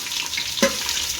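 Onions tossed into a hot pan for mushroom biryani give off a soft, steady frying hiss, with one sharp clatter of a utensil midway through.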